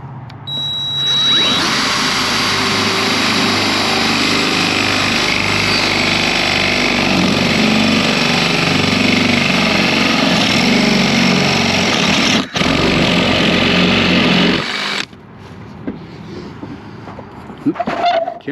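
A power drill boring through a van floor where a diesel heater tank sits, running loud and steady for about fifteen seconds with a brief catch midway, then stopping.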